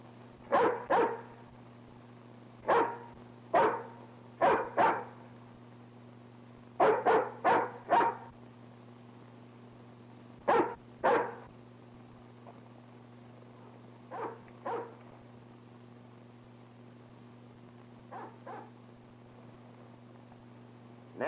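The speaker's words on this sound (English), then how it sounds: "Come on back here, you fool hound." A hound dog barks in a rural valley, loosing short bursts of yelps in clusters of two to four with pauses between, moderately near over a steady low hum.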